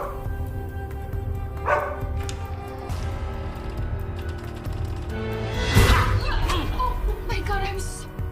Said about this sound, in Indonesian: Odi menggonggong ke arah ruangan baju.